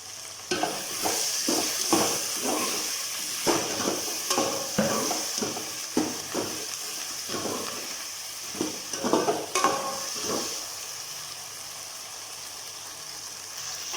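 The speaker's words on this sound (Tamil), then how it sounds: "வாழைக்காய் வந்து எண்ணெயிலேயே வந்து கொஞ்சம் நேரம் வதக்கணும்" Raw banana sautés in oil with curry leaves, a steady sizzle under repeated rhythmic stirring and scraping of a spoon against the pan, close and moderately loud.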